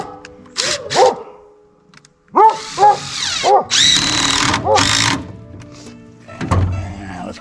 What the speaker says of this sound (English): Put a couple screws in there.